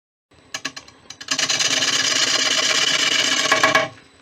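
Wood spins against a cutting tool on a woodturning lathe, starting with a few separate scrapes before settling into a steady, loud rasping cut that runs for about three seconds and then stops abruptly.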